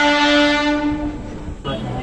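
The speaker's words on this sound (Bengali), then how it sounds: "ট্রেন আসছে" A train horn sounds loud and sustained as a train pulls into Howrah railway station, the steady tone holding for over a second before giving way to station noise and rumble.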